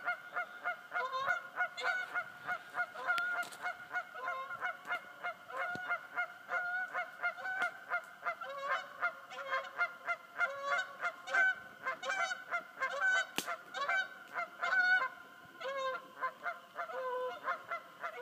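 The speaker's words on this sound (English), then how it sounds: "The goose in there calling to another." Canada geese honk repeatedly over open water held back by a dam, a dense overlapping chorus of calls as one bird lands, fairly close and loud with no talk.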